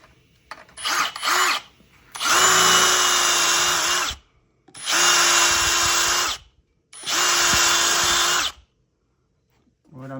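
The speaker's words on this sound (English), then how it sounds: "I'm using the countersink for that insert to fit in." Power drill with a countersink bit bores into wood for a threaded insert on a farmhouse dining table, sounding as three loud, close bursts of whining cutting separated by short silences, with a few quick trigger blips at the start.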